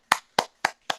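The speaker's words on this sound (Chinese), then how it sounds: "我们拍手鼓掌" Four separate hand claps at a steady even pace, sharp and close, with short gaps of silence between them, marking a welcome for a physiotherapist at a talk on relieving neck and shoulder strain.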